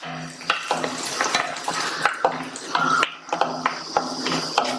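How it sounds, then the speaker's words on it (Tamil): Cashews and raisins frying in ghee in a pan, giving a soft crackling sizzle punctuated by repeated scraping and clinking of a spoon as they are stirred. "இந்த ஸ்டேஜ்ல 10-12 உலர்ந்த திராட்சையும் சேர்த்து வறுத்துக்கலாம்."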